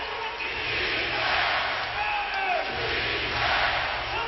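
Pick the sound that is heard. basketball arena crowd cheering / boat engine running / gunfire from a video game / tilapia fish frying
basketball arena crowd cheering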